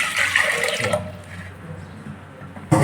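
Water pours into a pot for boiling potatoes on a home kitchen stove, a steady close splashing stream lasting about a second before trailing off into quiet, then a brief burst returns at the end.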